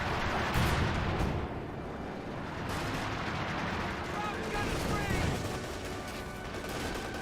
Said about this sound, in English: We do have another cluster munitions being summoned.